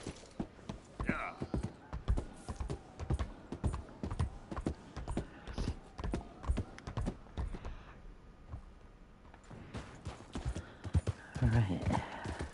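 Horse hooves in the video game Red Dead Redemption 2, a steady rhythmic clip-clop of a trotting horse, close and clear, pausing briefly before resuming, with a snort and someone talking over it.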